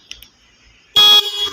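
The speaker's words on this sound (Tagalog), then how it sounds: "pinindot natin itong busina" A Marais trencher machine's horn gives one short, loud electronic blast after near silence, steady for a moment before dropping slightly and continuing.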